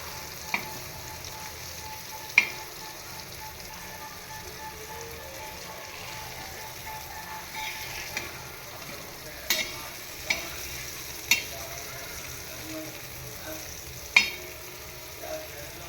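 Mandeli fish, one side already browned, frying in hot oil, giving a steady soft sizzle with several sharp pops and spatters scattered through, close and fairly quiet with no talking.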